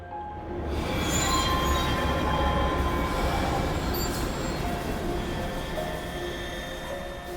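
A train in the game Love and Deepspace rumbles along steadily and loudly, with a dense low roar, clattering wheels and faint metallic squeals running throughout without a break.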